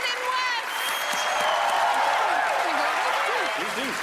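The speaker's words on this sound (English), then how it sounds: "A round of applause for Carl and for Alison, ladies and gentlemen." Studio audience applause at a magic show fills the room with a dense, sustained clapping wash while a presenter talks over it and music plays faintly beneath.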